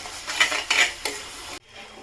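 A spoon stirs spices into a gram flour curry in a metal pan, making three or four quick scraping strokes up close before falling silent.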